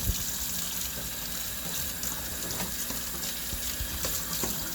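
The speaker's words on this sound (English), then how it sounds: "So I'm just going to turn this on, and I'm going to rinse out my coffee filter." A sink tap runs continuously while a coffee filter is rinsed under it, a steady close wash of water with small clinks and shifts mixed in.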